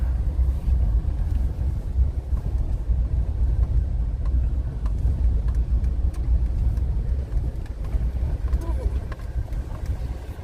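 A four-wheel drive car rolls along a soft campground ring road at Byfield National Park, its engine and tyre rumble steady and close throughout, with wind buffeting the microphone.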